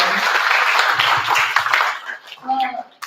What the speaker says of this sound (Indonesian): Dengan tepuk tangannya yang meriah ya.